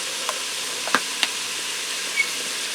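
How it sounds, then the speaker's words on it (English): Steady sizzling hiss of 80-20 ground beef browning in a Ninja Speedi cooker, seasoned with pink salt, pepper and garlic, with a few soft stirring knocks over the constant frying. "Now this isn't lean ground beef, it's 80-20, so after it's done browning, I'm going to have to drain off the excess grease."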